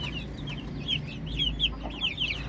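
A hen near an Aseel chicken setup gives a steady run of clucks, soft rhythmic calls repeating over low farmyard background noise.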